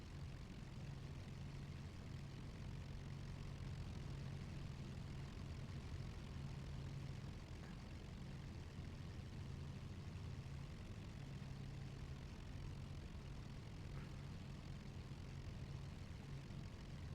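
Lancaster bomber engines in a flight simulator game give a steady, even propeller drone with a low rumble that holds at a constant, fairly quiet level throughout.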